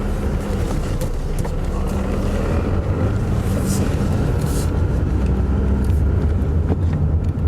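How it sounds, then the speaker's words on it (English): A car on a test drive after motor mount replacement drives along with a loud, constant road and engine rumble and some wind buffeting, close up and steady throughout. "what I'm going to do is take it for a test drive"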